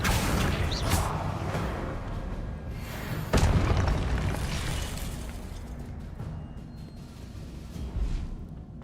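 The Confringo blasting spell goes off in the video game Hogwarts Legacy: a sudden loud boom mid-clip swells out of a dense rumbling game soundscape, then fades into a low roar with a few smaller whooshes.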